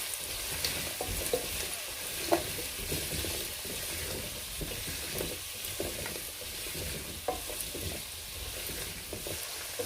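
Chopped carrot and meat frying in a pan for Turkish lentil soup make a continuous sizzle under repeated stirring scrapes and occasional clinks, close and steady, with no talking.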